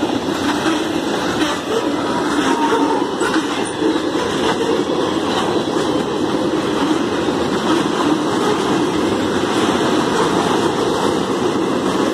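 Union Pacific 5769 freight train rolling through Altamont, Illinois, a loud, continuous rumble of passing rail cars with rattling and clatter, steady throughout and close by.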